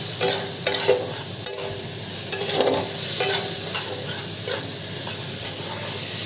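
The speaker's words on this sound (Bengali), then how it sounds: "এবারে ভালো করে বেগুনটা ভেজে নিয়ে" Brinjal (eggplant) pieces fry in a pan of oil with a steady hiss, broken by several close scraping stirs and spatula strokes at irregular intervals.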